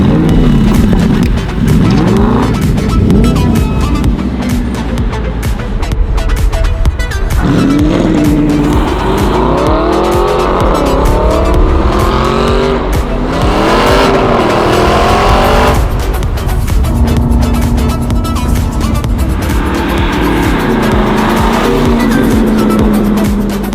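A loud 4.7-litre V8 engine in a 2018 Aston Martin V8 Vantage S AMR roars continuously, revving up and down through gear changes as the car accelerates, with no talking.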